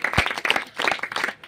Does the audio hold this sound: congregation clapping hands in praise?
yes